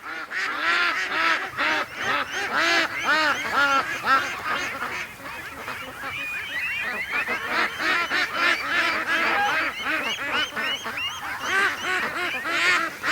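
A flock of geese honks continuously and loudly, dense overlapping calls with ducks quacking among them, close by throughout.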